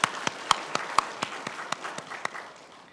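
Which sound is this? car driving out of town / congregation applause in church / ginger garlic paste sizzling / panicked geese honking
congregation applause in church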